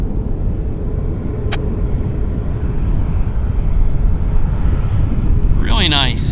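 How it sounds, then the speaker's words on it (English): An airliner rolling out after landing at Vancouver airport gives a loud, steady low rumble of engine and runway noise that runs throughout, with a brief sharp click and a short burst of higher noise near the end. "That was a very nice landing on the Flare."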